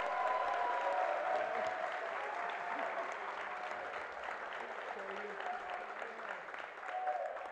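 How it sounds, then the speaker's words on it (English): Warm audience applause at a high school college signing day as an athlete is introduced, a moderate steady patter of clapping from a room of people that softens slightly midway and swells again near the end, with faint voices beneath. "Our first athlete, a round of applause,"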